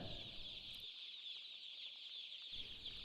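Chickens on a farm cluck in brief bursts at moderate distance, set against a steady high hiss of background noise.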